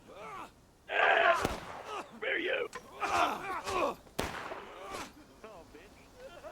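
Musket gunfire from a Civil War battle on a farmland map in the game War of Rights, a few sharp reports amid shouting and groaning voices from a chaotic crowd of players.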